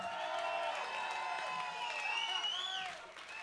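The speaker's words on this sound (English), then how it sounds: "give her a great East Side applause" Audience applause and cheering at a kids' charity concert in Pattaya, Thailand, a steady dense wash of clapping from a crowd, with bright whistles and voices riding over it before it tapers near the end.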